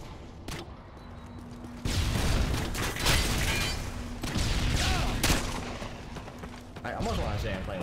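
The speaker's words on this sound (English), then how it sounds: "I already see people are having fun with the grenade launcher" Grenade launcher explosions and gunfire in the Modern Warfare 2 video game: a few booming blasts and scattered shots of mixed distance, layered with a low steady hum.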